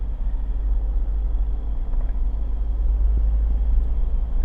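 A car engine held between 1500 and 2000 RPM while driving at a steady speed, a constant deep droning rumble with road noise, loud and unchanging throughout.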